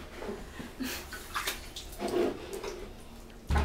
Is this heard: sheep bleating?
no